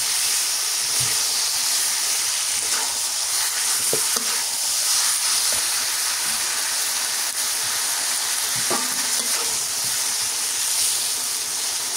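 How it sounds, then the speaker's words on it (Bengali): Capsicum sautéing in a pan for a village-style snakehead fish curry, giving a steady, close sizzle and frying hiss throughout with occasional faint stirring clicks and no talk. "ক্যাপসিকামটা কষান করে নেই।"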